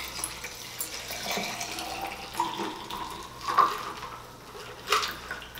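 Shaken cocktail poured into a glass packed with ice, a steady liquid stream with light ice clinks and splashes, close and alone.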